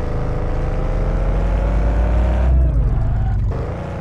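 Freshly repaired car driving in the Car For Trade dealer simulator game, a loud, steady engine drone with a tonal whine that dips and recovers as the revs shift.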